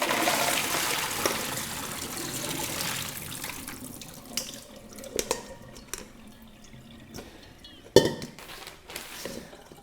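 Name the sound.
rinsing soaked nuts in water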